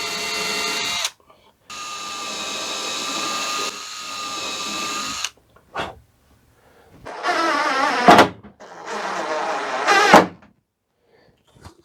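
A power drill bores a 3/16 inch pilot hole during rudder and oar lock installation on a wooden dinghy: several loud, whining bursts of drilling separated by short pauses, with no talking.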